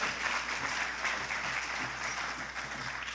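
An audience at a documentary film screening in Newark claps steadily for the whole stretch, a dense, even wash of applause from a room full of people with no talk on top.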